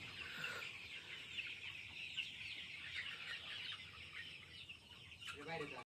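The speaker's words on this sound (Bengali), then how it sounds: "এখন এই মুরগিগুলো আটকানো হইতেছে" Chickens cluck and squawk continuously while being caught in a farm shed, a dense, busy flock chatter that stays fairly near and steady throughout.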